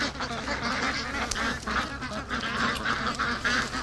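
A flock of free-range Muscovy ducks at a lake calls out with a continuous overlapping chorus of honking, quacking cries, close and fairly loud throughout.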